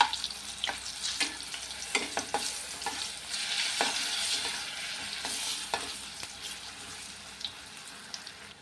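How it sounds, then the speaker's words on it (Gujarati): Raw banana slices sizzle and crackle steadily in frying oil while a utensil stirs and clinks now and then, close by. "તો આપણે એકવાર તળી લઈએ પહેલાં"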